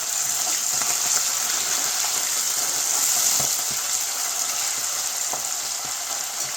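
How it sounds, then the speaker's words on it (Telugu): Fenugreek leaves fry in a pan, giving a dense, steady sizzle and hiss that stays close and fairly loud for several seconds, with faint scraping clicks and no voices. "మెంతి కూర కూడా ఫ్రై అయిపోయింది"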